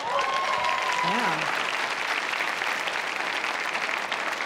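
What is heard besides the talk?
audience applause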